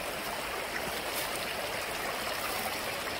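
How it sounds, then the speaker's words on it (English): A small mountain stream flows and trickles steadily nearby, a continuous close wash of water with no voices. "I would be quiet right now just listening to this stream"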